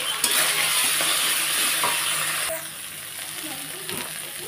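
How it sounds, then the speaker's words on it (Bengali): Spice masala with turmeric powder sizzles steadily in hot oil in a pan for a vegetarian soybean, potato and peanut curry, a loud, dense frying hiss that eases slightly partway through, with occasional stirring clinks and no talk. "আর মশলাটাকে ভালোভাবে কষিয়ে দিচ্ছি।"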